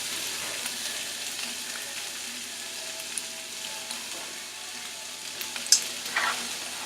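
Chopped Italian sausage with casings removed fries in a pan with a steady, soft sizzle and a few small pops and stirring scrapes near the end, and no one speaks.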